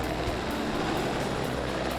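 Continuous rotor and engine drone of a Customs Service helicopter searching Texas back country, with a faint rhythmic chop, steady and fairly close, with no voices.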